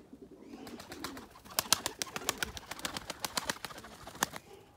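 A pigeon coos in a rapid, broken series of short notes with a hoarse, cracked quality, heard close and fairly quiet with no talking.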